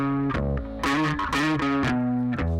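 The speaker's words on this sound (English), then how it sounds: "Just adding some more distortion here" A synth line driven through a distortion effect plays alone at close range, its gritty, harmonically rich tone stepping through several sustained notes with brief dips between them, for a Tame Impala style production.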